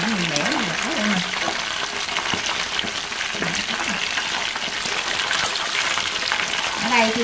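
Chicken pieces fry in hot oil in a pan, a dense steady sizzle and crackle running throughout, with a voice speaking softly under the frying.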